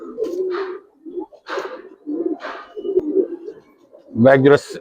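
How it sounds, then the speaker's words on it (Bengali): Pigeons at a market stall coo in a series of low, throaty rolling calls, close and fairly loud, with short pauses between phrases and a louder burst near the end. "বেজি কবুতর দেখেন"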